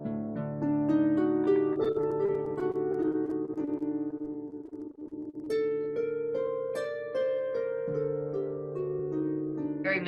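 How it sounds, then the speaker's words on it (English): Harp retuned to a non-Western scale, playing a sustained melodic passage of plucked, ringing notes with overlapping resonance, steady and fairly loud throughout with no talking. "we can tune the harp and get sounds like this."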